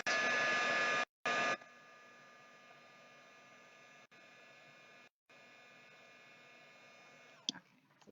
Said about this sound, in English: And then I'm going to quickly heat emboss this.